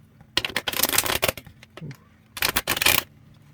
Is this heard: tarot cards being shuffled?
yes